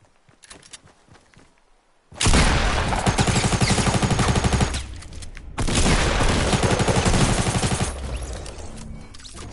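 Rapid automatic gunfire in a shooter video game, two long sustained bursts of loud, close, rattling shots separated by a brief pause, preceded by scattered quieter shots.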